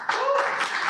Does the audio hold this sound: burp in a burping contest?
no